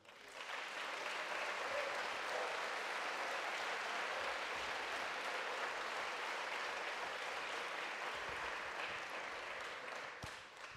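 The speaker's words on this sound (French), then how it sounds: "Je pense que vous pouvez l'applaudir." An audience claps steadily for about ten seconds at a MEDEF speech, a dense even patter that fades slightly at the end, somewhat distant.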